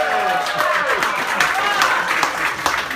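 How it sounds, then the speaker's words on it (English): An audience applauds volunteers at a hypnosis show, a steady round of clapping with crisp individual claps standing out, heard at moderate distance and with voices mixed in. "have a nice round of applause for your amazing stars."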